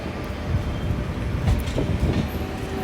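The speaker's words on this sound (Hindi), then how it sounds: "ये शताब्दी एक्सप्रेस है, सबसे पुरानी ट्रेन" The Shatabdi Express passenger train from New Delhi to Dehradun runs with a steady loud rumble of rolling wheels and faint rhythmic rail clatter, heard from close by and without talk.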